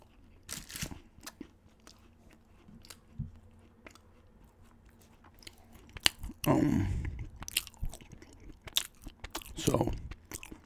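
Someone bites and chews crunchy Froot Loops Pop Tarts up close, giving scattered sharp crunches and a longer burst of munching, quiet and intimate with no talking.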